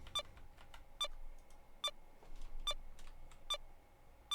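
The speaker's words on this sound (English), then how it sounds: "That beeping is not going to stop." Electronic beeps from a Myst-like puzzle game, sharp short tones repeating at a steady rhythm about every 0.85 seconds, fairly quiet over a faint hum with no talking.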